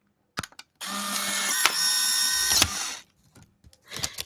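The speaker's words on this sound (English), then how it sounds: "While the picture is coming out of the Polaroid, it actually has a pitch to the sound if you listen carefully." A Polaroid instant camera ejects a photo with a steady pitched motor whir lasting about two seconds, close and clear, framed by small clicks and handling noises before and after.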